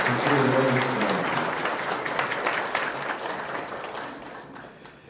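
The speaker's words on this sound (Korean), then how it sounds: "박수로 응원해주시기 바랍니다." Audience applause fills an award ceremony hall in a dense, steady wash of clapping that gradually thins out, with a voice briefly over it at the start.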